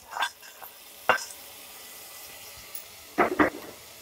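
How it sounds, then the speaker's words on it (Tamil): Curry leaves that were sautéed in oil are tipped into a bowl of batter for amirthaphalam. A few short, separate bursts of sizzle and stirring clatter sound close by, with quiet gaps in between. No one speaks. "இந்த கருவேப்பிலையே இந்த எண்ணெயிலே வதக்கிட்டு அதில் கொட்டிடுங்க"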